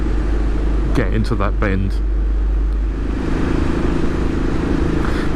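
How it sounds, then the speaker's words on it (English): A 2018 Royal Enfield Classic 500 single-cylinder engine runs with a loud, steady rumble as the rider opens the throttle on a road ride, and someone speaks briefly over it. "you just want to open that right, your wrist, open the throttle,"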